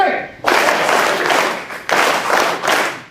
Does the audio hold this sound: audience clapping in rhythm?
yes